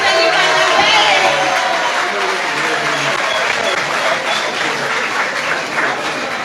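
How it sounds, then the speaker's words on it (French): An audience at a Camp Flambeaux event in Ségou applauds to welcome the urban commune's mayor, a steady dense clapping with some crowd noise that holds for several seconds, loud and close, with voices mixed in underneath. "Accueillons-le avec des applaudissements."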